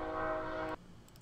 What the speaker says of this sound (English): Wow, trains are loud,